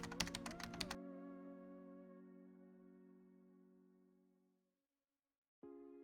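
Rapid clicking of computer keyboard keys, close and clear, lasting about a second before a sustained tonal ring slowly fades out, then a short burst of another sound at the end.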